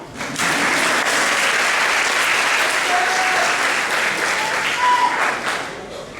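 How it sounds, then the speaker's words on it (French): An audience applauds during a stage hypnosis show, sustained, dense clapping that fills the room for several seconds, with a faint voice briefly audible beneath. "Applaudissez-la, elle aime bien"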